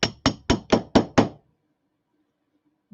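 Six quick, evenly spaced hammer taps on an object being pressed into place during an upcycling craft, close and crisp, followed by silence.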